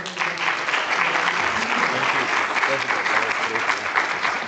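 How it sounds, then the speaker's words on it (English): Loud, sustained applause from an audience thanking a speaker, a thick continuous roar of clapping with some voices mixed faintly underneath. "Please, a round of applause."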